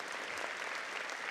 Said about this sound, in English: Ladies and gentlemen, a round of applause for our disciplined forces